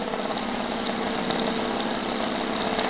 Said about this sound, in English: Motor's still running. Still running. Running pretty slowly though.